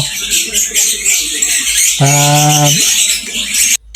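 Caged birds call at a pet bird market among breeders and sellers, with busy high-pitched chirping throughout and one loud, clear squawking call standing out near the middle.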